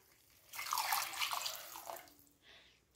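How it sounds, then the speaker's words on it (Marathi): Moth bean cooking water pours into a curry for misal, a steady splashing liquid stream lasting about a second and a half, then a short softer trickle near the end. "आणि याच्यामध्ये टाकायचं आहे आपल्याला हे मटकीचं पाणी."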